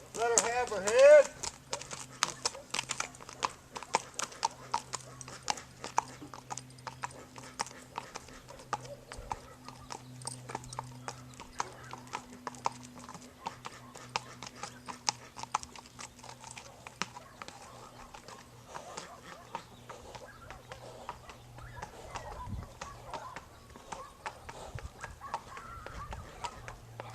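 A mare's hooves clip-clop steadily at a walk while she is ridden out on a barn-sour training ride, a soft, regular rhythm close by, with someone talking over it and faint farm birds in the background.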